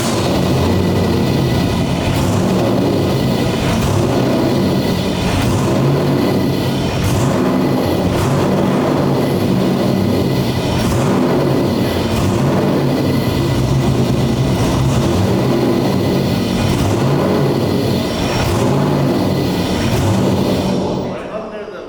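A C6 Corvette competition drift car's engine runs loud and steady with a dense, continuous rumble and rhythmic pulsing throughout, then briefly tapers at the end.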